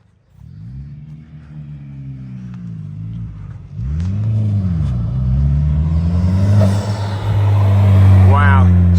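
A Honda Civic Type R FK8 with an Eventuri cold air intake idles, then revs. The engine note rises in sweeping pulls and grows louder and closer toward the end, with a brief rising whine near the finish.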